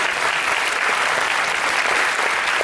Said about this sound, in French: vous pouvez vraiment les applaudir très fort